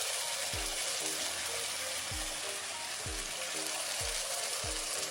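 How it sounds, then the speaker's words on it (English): Food sizzles with a steady, loud hiss in a very hot pan while meatballs cook, with a few soft low thumps recurring about once a second underneath. "Let's let it cook for a little bit."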